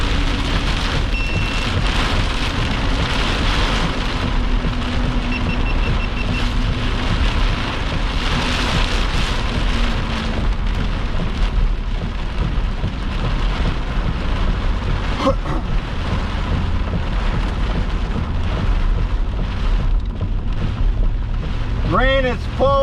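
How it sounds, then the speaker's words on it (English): Heavy rain pours steadily around a tornado-warned storm cell in Arkansas, a loud continuous roar with occasional clatters near the end. "Rain is falling all around this cell."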